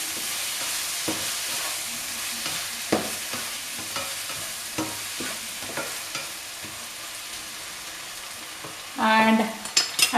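Sabzi bhaji ingredients crackle and sizzle in a hot pan while being stirred, a steady frying hiss punctuated by repeated spoon scrapes, with a louder burst of sizzling near the end.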